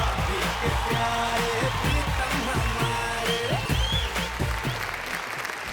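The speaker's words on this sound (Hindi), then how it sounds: "प्लीज श्वेता तिवारी के लिए जोरदार तालियां।" Loud, sustained applause from an audience, dense clapping that continues steadily throughout with faint crowd noise underneath.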